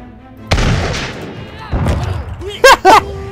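Cannon shots in Totally Accurate Battle Simulator, a heavy boom near the start followed by further thuds and sharper bursts, loud and close, with a talking voice faintly mixed in.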